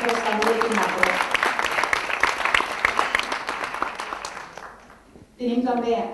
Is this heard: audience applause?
yes